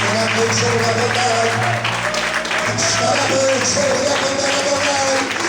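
During an evening worship service, a church congregation keeps up continuous clapping mixed with sustained music and raised voices.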